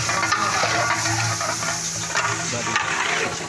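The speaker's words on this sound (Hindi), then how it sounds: "तो हम इसको 15 से 20 मिनट हम इसको भूनेंगे चिकन को।" Five kilos of chicken fried in a large pot with tomatoes and green chilies, a loud continuous sizzle with stirring scrapes, close and dense, with no speech.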